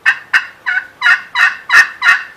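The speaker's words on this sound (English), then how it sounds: "And those gobblers here, they just went berserk" Wild turkey gobblers in Nebraska answer a custom slate pot call with seven loud, rapid gobbles in a steady rhythm, close and clear against a quiet background.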